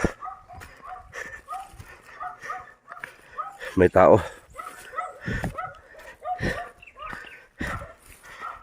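A dog barks in a short burst, fairly close, while several people talk over it.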